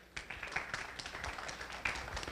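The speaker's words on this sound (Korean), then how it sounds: "박수 쳐주십시오." An audience at a CEO business forum applauds in a moderately faint, crackling patter of many hands, with a few sharper claps standing out from the steady clapping.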